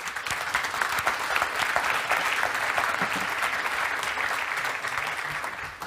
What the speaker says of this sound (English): please, a round of applause for all of our panelists